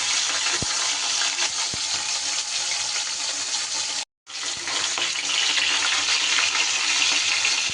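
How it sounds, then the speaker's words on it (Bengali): Fish heads frying in mustard oil, a loud dense hiss of sizzling that fills the clip, briefly cut to silence near the middle before resuming, with a couple of faint ticks of utensil; no voices. "খুব সুন্দর করে আমি মাছের মাথাগুলো লাল লাল করে ভেজে নেব।"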